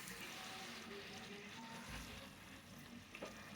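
Peanut pakodi (palli pakodi) frying in hot oil over a medium flame, a steady, continuous sizzle and bubbling that holds level throughout at moderate loudness, with no voices.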